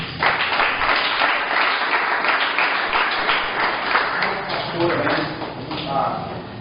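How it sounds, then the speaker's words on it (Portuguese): Applause from a church congregation during a worship service, dense and sustained clapping filling the room throughout. "É as palmas para Jesus."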